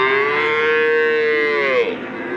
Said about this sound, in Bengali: বাছুরগুলো অনেক বেশি পরিমাণে ডাকাডাকি করতেছে